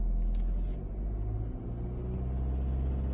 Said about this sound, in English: Slight rattle in the engine.